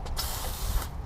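A spray bottle giving a couple of quick bursts of mist onto a Lamborghini wheel during detailing, short close hissing sprays.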